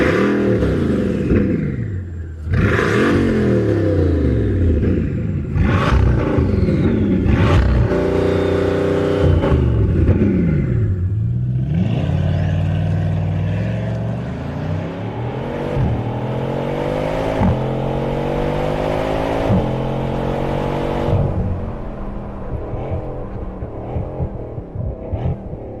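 A Bugatti Chiron's quad-turbocharged engine revs repeatedly in loud, sweeping bursts, pitch climbing and falling with each blip, then settling into longer rising pulls with gear-like steps, close and unaccompanied by talk.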